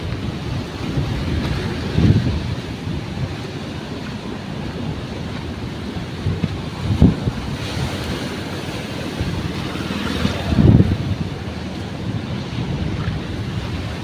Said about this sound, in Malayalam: തീരത്തേക്ക് വന്നെത്തുന്ന തിരമാല.